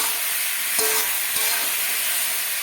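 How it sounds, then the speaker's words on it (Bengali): Vegetables with chopped tomato sauté together in a pan, a dense, even sizzle held steady for a few seconds with two faint knocks of a utensil, no voices over it. "টমেটোটা দিয়ে দিলাম সব একসঙ্গে আমি ভালো করে কষাই করে নেব"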